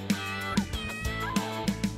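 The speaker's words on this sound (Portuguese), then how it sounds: "e o gato mia" A cat meows a few times over light background music, short, clear calls near the listener.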